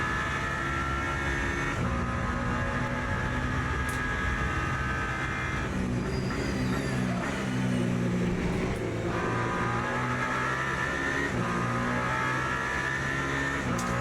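A Peugeot race car engine in the Le Mans Ultimate racing game drones loudly and continuously at high revs, with a few shifts in pitch as gears change down a straight.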